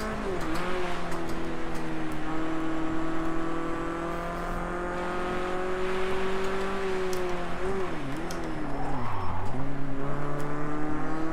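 Race car engine in Project Cars 2, driven with a Thrustmaster TX race wheel, holds a loud, steady high-revving drone throughout, with pitch dips and climbs around gear changes and a brief tire squeal near the end.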